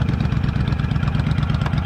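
Several sportbikes from a New York club idle together outside a Perkins restaurant, a steady low rumble with a pulsing beat that holds near and loud throughout, no voices.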